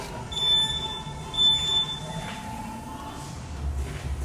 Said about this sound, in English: Let me stop the timer before that gets real funny sounding.